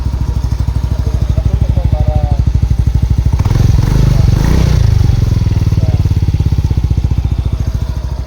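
A Honda Mio i 125 scooter idles close to the exhaust, its engine pulsing loud, steady and even throughout, with a brief fuller swell near the middle.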